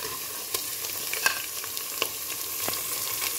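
Minced goat meat (qeema) fries and is stirred in a pan for qeema kaleji, a steady close sizzling hiss broken by a few sharp spatula clicks, with no talking.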